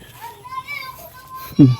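Children play outdoors at night at a housing site, their high voices calling and chattering close by, ending in a sudden louder shout or squeal.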